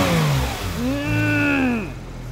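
A 991-generation Porsche 911 GT3 RS engine revs hard on the blip, its pitch climbing sharply and falling back twice in quick succession, heard up close outside the car.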